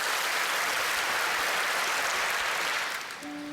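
A church congregation applauds in a sustained, even wash of clapping that stays steady and then eases off slightly near the end.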